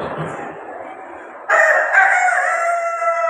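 During a children's storytelling session at a school, a human voice imitates a rooster's crow, a long strained rising-and-holding call after a breathy lead-in, close and loud.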